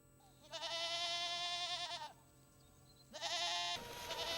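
Goats bleating at a farm goat shed, two long, loud, wavering bleats close by, separated by a brief pause, followed by quieter animal noise.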